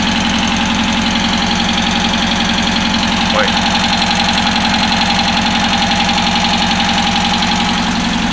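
A hot car engine idles steadily and close by, a continuous rhythmic mechanical hum with a slight knocking pulse, while a voice speaks briefly over it.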